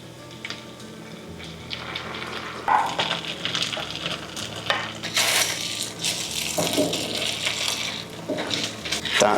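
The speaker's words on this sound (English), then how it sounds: "Now time to add the gravy to the sausage meat." Gravy being stirred into sausage meat in a pan, with metal-on-pan scrapes and clinks, a soft bubbling sizzle and some sharper knocks scattered through, close and moderately loud, no talking.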